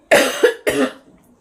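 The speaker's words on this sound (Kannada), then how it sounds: "ಫುಲ್ ಮಲ್ಕೊಂಡಾಗಲೇ ಕೆಮ್ಮು ನೋಡಿ," Two dry, harsh coughs from a person lying down while ill, close and loud, the first with a quick double burst, then silence.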